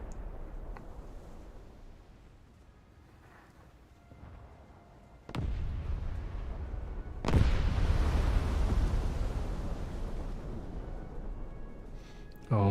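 Naval guns of an Italian warship fire at enemy torpedo racks in a naval combat game: two heavy booming blasts a couple of seconds apart, each followed by a loud, sustained rumble.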